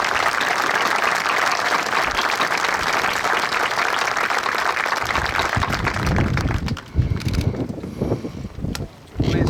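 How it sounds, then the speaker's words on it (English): Warm applause for Marines from the audience at an outdoor Veterans Day ceremony, a dense sustained clapping wash that thins toward the end into scattered claps and wind rumble. "let's give them a very warm applause."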